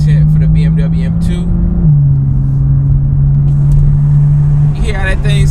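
BMW M2 engine idling up close with a steady low drone that dips slightly in pitch partway through, while someone talks over it at the start and end.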